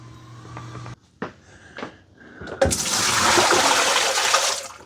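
Water pours from the dirty water tank of a Dreame L40S AE robot vacuum into a sink, following a few clicks and handling knocks, then a loud, steady rushing splash close by.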